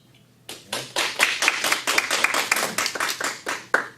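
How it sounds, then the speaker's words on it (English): A small audience claps after a research presentation, a burst of distinct, fairly close hand claps starting abruptly and continuing in an uneven rhythm for several seconds. "Applause heard around the world, Chinwe."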